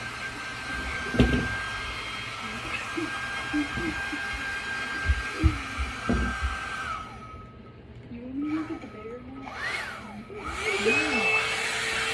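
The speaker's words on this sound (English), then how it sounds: "Oh, so I'm going to use my blow dryer." A blow dryer runs with a steady whine and hum while drying paint on a farmhouse tray, then cuts off partway through; children giggle and someone speaks faintly in the background.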